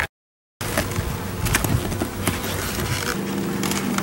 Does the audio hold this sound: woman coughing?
no